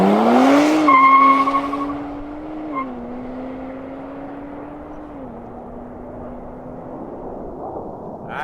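A 2023 Nissan Z Performance engine cranks and catches with a loud rev that rises sharply, then settles into a steady idle hum with small pitch shifts.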